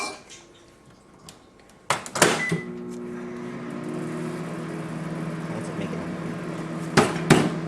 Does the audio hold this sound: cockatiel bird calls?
no